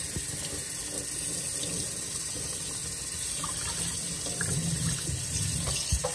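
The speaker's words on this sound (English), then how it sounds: "We're just going to rinse this in water." Tap water runs steadily into a sink while a bleached tie-dye shirt is rinsed under it, a continuous close splashing flow that grows slightly heavier toward the end.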